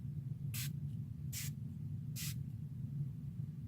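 Rose-scented hydrating face mist sprayed from a pump bottle in three short, evenly spaced hissing bursts, close and alone over a low background hum.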